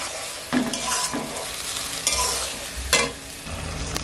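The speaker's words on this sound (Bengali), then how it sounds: "ভালো করে একে একটু নেড়ে কষিয়ে নিতে হবে" Egg curry masala stir-fried in a kadai, a steady sizzle broken by several sharp scraping strokes of the spatula against the pan, close and fairly loud with no one talking.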